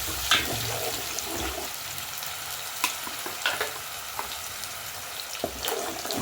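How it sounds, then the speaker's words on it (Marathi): Masala for misal sizzling as it fries in oil in a pot, with a continuous crackling hiss and a few sharp stirring clatters scattered throughout, close up and without talk. "हा जो मसाला आपण सगळा परतून घेणार याच्यात आणि ह्याला जेव्हा तेल सुटायला लागेल"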